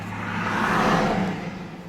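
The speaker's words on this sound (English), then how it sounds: "sorry about the car noise" Steady low engine rumble and broadband road and wind noise inside a car on a gusty day, continuous and fairly loud throughout with no talking.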